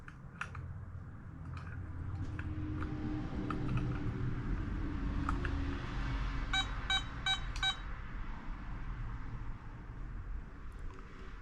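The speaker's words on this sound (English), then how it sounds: "a brief audio alarm will sound every 60 seconds" A metal detector gives a faint, quick series of electronic alarm beeps, four or five in a row, over a steady low hum, with a few softer isolated clicks and beeps around them.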